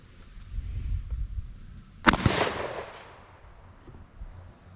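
A single sharp report from a Mossberg 185K 20 gauge shotgun loaded with number 4 shot, fitted with a poly choke at improved cylinder, fired outdoors. The crack rings out from a quiet background and decays over about a second.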